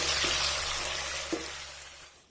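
Potato pieces frying in hot oil in a pan for aloo bhujia, a steady close hiss and crackle of sizzling with a faint stir or clink partway through, fading slightly at the end, no talk.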